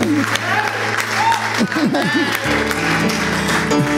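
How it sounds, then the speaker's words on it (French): A church congregation applauding the Lord, steady clapping from many hands mixed with voices, singing tones and other sounds over it. "Applaudissons le Seigneur"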